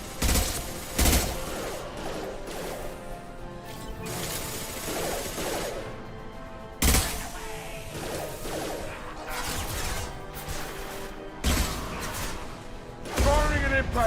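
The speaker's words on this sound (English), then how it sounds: "Firing an impact shot." Sci-fi shooter combat in Mass Effect Legendary Edition: repeated bursts of gunfire and sharp impact-shot blasts at close range, with loud cracks punctuating a continuous mechanical clatter of battle and a voice speaking over parts of it.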